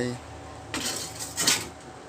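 A fork pokes boiled purple yam tubers in a cooking pot, giving two brief clinking taps against the pot amid faint background noise.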